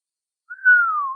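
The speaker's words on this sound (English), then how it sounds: "The stranger whistled." One person whistles a single sustained note, close and clear, gliding gently downward before stopping.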